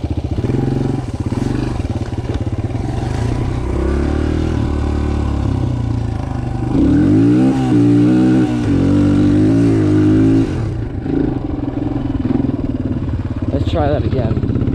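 A Suzuki DRZ 125 dirt bike claws up a sandy quarry hill, its small engine loud and close, revving hard with rising and falling pitch, straining through the climb before easing off near the end, with a voice talking over it.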